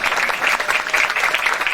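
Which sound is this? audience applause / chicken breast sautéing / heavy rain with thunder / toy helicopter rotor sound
audience applause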